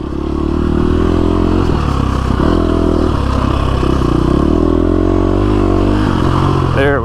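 A KTM 350 SX-F dirt bike ridden in first gear over big rocks on a fading desert trail, its engine loud and close, pulsing and revving unevenly as the bike clatters and scrapes over the rocks, with a voice heard over it.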